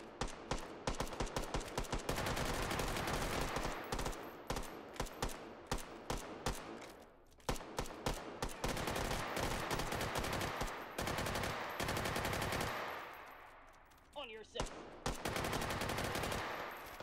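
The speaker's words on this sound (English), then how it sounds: "I'm just using the light machine gun." A light machine gun fires in the VR shooter Hot Dogs, Horseshoes & Hand Grenades: loud, rapid automatic bursts rattle in long runs broken by short pauses, with scattered single shots and a brief quieter gap near the end.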